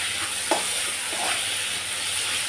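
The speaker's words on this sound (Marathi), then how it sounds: "आता ते टमॅटो कांद्यामध्ये चांगलं परतून घेते" Tomato, onion and a ginger-garlic-coconut paste sauté in a pan, giving a soft, steady sizzle with faint stirring scrapes, fairly close and with no voices.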